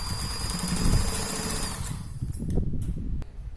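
A domestic sewing machine runs continuously, stitching a strip onto a small girl's petticoat, with a steady close mechanical whir that thins out midway, followed by a few sharp clicks and handling knocks.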